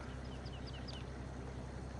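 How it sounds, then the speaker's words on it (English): Chickens in a farmyard in the Farming Simulator 22 video game, heard as a few faint, distant chirpy clucks over a steady ambient game hum. "I see the chickens running around in the yard."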